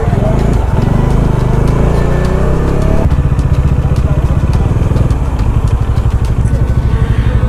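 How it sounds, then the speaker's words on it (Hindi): Traffic jam of motorcycles and cars at the crowded Gangasagar mela, with loud, close engines idling and clattering continuously and a dense mechanical rumble, under occasional voices. "इतना इतना पूरा जाम लगा हुआ है भाई।"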